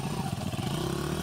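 A motorcycle engine revving under throttle, a short, close, rough mid-pitched roar with a pulsing exhaust note that holds steady for about a second.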